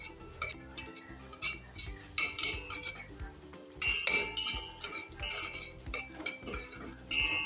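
Pounded rice roasts in ghee in a pan, with a soft sizzle under repeated clinks and scrapes of a spoon stirring against the metal, close and without talk.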